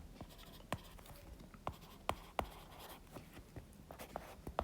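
Pen or chalk writing by hand during a lecture, faint scratchy strokes and sharp taps at an irregular pace, quiet and close with no talking.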